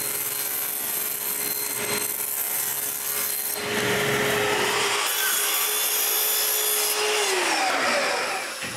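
A saw cutting a plywood back panel in a woodworking shop, a steady whining hum with gritty rubbing, rising into a louder, harsher cut midway and tailing off near the end.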